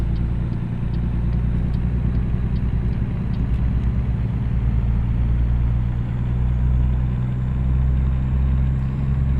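Steady truck engine rumble under load while a driver works an Eaton Fuller 10-speed gearbox, a continuous low drone with slight variations and faint ticking, no talk.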